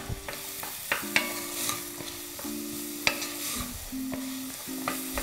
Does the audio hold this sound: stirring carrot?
yes